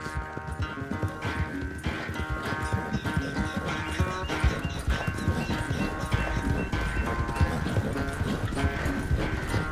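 Horse hooves clip-clopping at a steady riding pace in Red Dead Redemption 2, continuous rhythmic thuds under a sustained musical score and ambient game sound.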